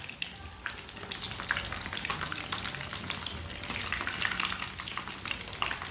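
Cheese sandwich pakora frying in oil in a pan, a dense, steady crackling sizzle with frequent small pops throughout, close and fairly loud, with no talking.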